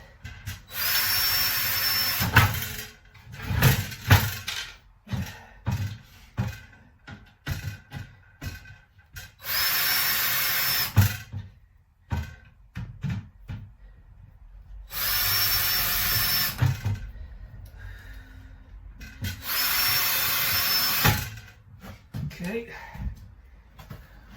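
A power drill whirs in four sustained bursts of a few seconds each, driving screws into wood for workshop drawers, with softer handling knocks and brief talk between runs.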